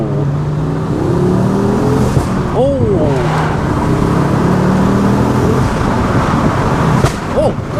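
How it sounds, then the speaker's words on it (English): A Ford Focus RS MK2 fitted with a Milltek exhaust and Wagner intercooler drones at low revs, then gets blipped with sharp rev rises and exhaust pops, loud and close. "The pops are significantly louder than what they were before, but it sounds really sweet."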